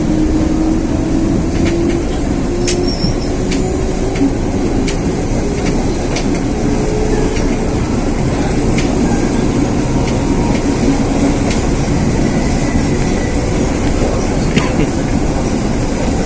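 Used Japanese commuter train running on rails through Jakarta, a steady rumbling roll with faint rhythmic clicks over the joints, continuous and close throughout.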